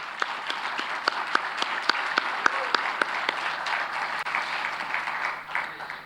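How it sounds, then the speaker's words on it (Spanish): A conference crowd at CPAC claps in steady applause, loud and sustained, with sharp individual claps standing out, fading slightly toward the end. "Aplausos para ellos."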